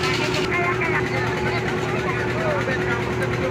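A boat's engine drones steadily while moving along the Ganges, a constant low hum with water wash, heard close and loud beneath people talking throughout.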